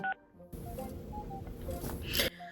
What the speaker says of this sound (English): She then proceeds to start punching her number into his phone right in front of me